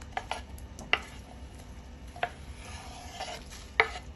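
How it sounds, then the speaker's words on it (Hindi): A spoon stirring chillies and a large tomato into mustard greens saag in a pot, with a few sharp scraping clinks spread out over soft, low cooking noise. "तो ये सारी चीज़ें हम इसमें अभी मिक्स कर देंगे।"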